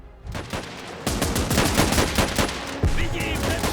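Gunfire between a tank and a machine gunner in the video game Last Train Home, rapid loud machine-gun bursts with heavier booming shots mixed in, continuous and close.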